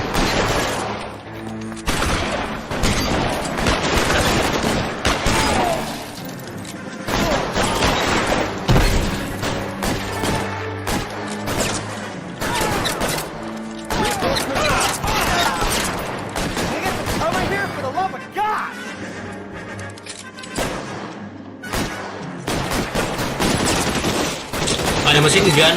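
Sustained machine gun fire and fusillades in the video game L.A. Noire, dense rapid bursts with booming impacts filling the whole stretch, with speech and game voices mixed in among the shots.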